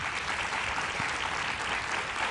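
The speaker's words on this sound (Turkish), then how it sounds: "Hazırız diyorsanız alkışlarınızı duyalım" A studio audience at a Turkish television quiz show claps in a short, dense burst of applause, steady and fairly loud throughout with no talking on top.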